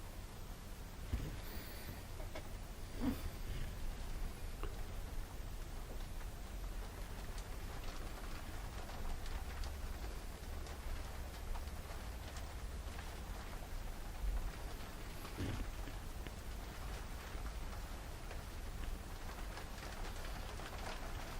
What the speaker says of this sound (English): rain is definitely coming down out there today